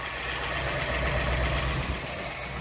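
A 1968 Ford Bronco Stroppe Baja engine runs steadily at a low, even rumble with no break, fairly close and continuous for the whole stretch.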